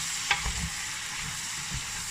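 Chicken is stirred with chives and eggs in a hot pan while cooking caramel chicken, a continuous soft sizzle of frying with a few scraping stir strokes, close and fairly quiet, no talking.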